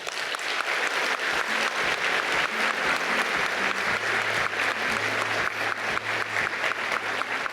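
Sustained audience applause at a closing lecture event in São Paulo, dense steady clapping from a large crowd filling the whole stretch without pause.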